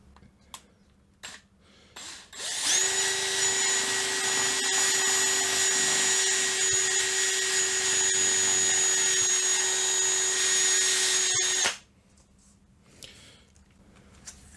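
A power drill bores a hole in a DIY fermenting container, spinning at high speed with a steady, shrill whine that starts suddenly, holds for about nine seconds and stops abruptly, alone against quiet background noise.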